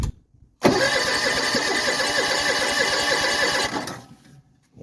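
A Betco Big Bertha propane floor stripping machine's engine fires up abruptly and runs loud and close for several seconds with a busy mechanical rattle, then dies away.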